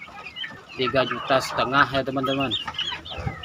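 Free-range village chickens cluck and squawk nearby in a farmyard, with several overlapping calls heard under someone speaking.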